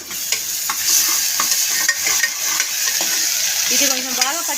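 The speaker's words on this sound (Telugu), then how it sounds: "ఇది కొంచెం బాగా పచ్చి వాసన పోయేదాకా కొంచెం వేపుకుందాం." Ginger garlic paste stir fried in a pan for an egg gravy, a loud close sizzle broken by repeated scraping strokes of a spatula against the pan.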